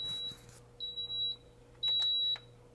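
A baby bottle warmer beeps several times, thin high electronic tones of differing lengths, over a quiet background hum.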